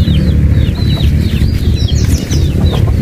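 Farm hens cluck and chirp in short repeated calls, close and steady over a dense low rumble of yard noise, with no talk.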